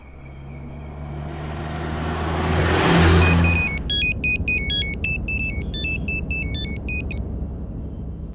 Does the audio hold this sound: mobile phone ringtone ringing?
yes